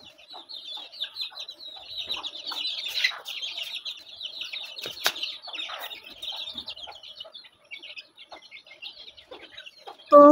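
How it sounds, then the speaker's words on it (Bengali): Backyard chickens cluck and chatter continuously at close range, with scattered sharper squawks and light scuffling as the hens follow along, ending in a sudden loud clatter. "আর এই তো দেখুন মুরগিগুলোও কিন্তু পিছন পিছন আসছে"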